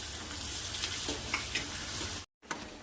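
Onion, green chili and coarsely crushed garlic sauté in a hot pan for a kabuli chana usal, giving a steady, close sizzle with a few soft stirring scrapes and a brief cutout near the end.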